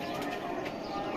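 Imam Din breed pigeon cooing in a loft, soft low coos repeating close by beneath steady background noise, with people talking nearby.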